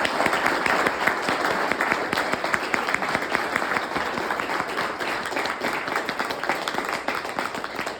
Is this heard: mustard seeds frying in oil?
no